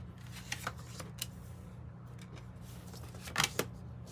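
Tarot cards shuffled in quiet, low-level bursts, with a few soft riffling flicks and a sharper cluster of card snaps near the end over a steady low hum.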